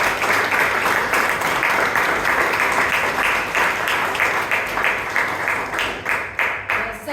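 Club members at a Toastmasters meeting applaud together, a dense, even burst of clapping that carries on for several seconds before slowly thinning out toward the end.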